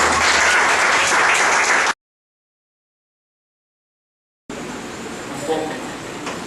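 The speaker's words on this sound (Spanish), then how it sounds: "Den un aplauso a Dios." A church congregation gives a loud round of applause to God, heard in two separate stretches with a sudden total silence between them, the second portion slightly quieter and mixed with crowd noise.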